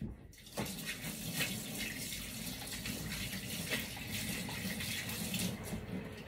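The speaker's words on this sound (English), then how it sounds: "I'm, gonna wash my hands" Hands being washed under a running kitchen tap: a brief clatter, then a steady, close, fairly loud gush of water that continues for several seconds, with no talking.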